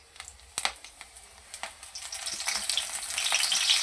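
Eggplant slices fry in hot oil in a pan for baingan raita. The crackling sizzle starts faint with a few sharp taps, then swells steadily into a loud, close hiss.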